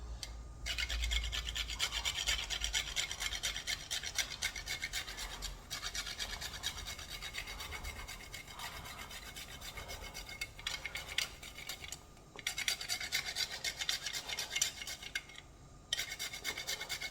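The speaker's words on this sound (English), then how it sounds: "I'm just going to, grate some nutmeg, and that'll go in" Nutmeg is grated by hand in a steady, rasping scrape that repeats over and over with a few brief pauses, close and fairly quiet, with no voices.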